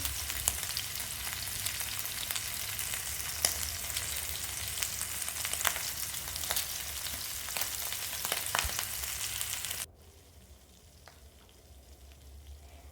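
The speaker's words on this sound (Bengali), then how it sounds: "আমি একটু ভেজে নিচ্ছি" Hilsa fish frying in oil, a steady close crackling sizzle with faint stirring taps, dropping abruptly to a much quieter hiss near the end.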